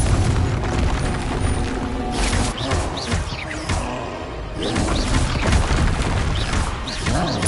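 Repeated Confringo fire-blast spells in the Hogwarts Legacy video game, dense booming bursts and crackling impacts throughout, loud and close, with a voice shouting the spell names over the din.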